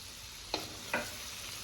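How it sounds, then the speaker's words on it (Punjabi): Green chillies and ginger stirred into hot oil with mustard seeds for a pickle, a steady sizzle with two brief scraping stirs, close and even. "ਹੁਣ ਆਪਾਂ ਮਿਰਚਾਂ ਤੇ ਅਦਰਕ ਇਹ ਤੇਲ 'ਚ ਮਿਕਸ ਕਰ ਦਾਂਗੇ"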